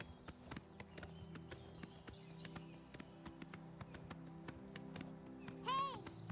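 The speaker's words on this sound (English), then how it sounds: "That horse is on fire. It's a demonic horse." Regular hoof clip-clops of a flaming Daedric horse in the video game Oblivion Remastered trot along steadily over a low background drone, followed near the end by a brief horse whinny.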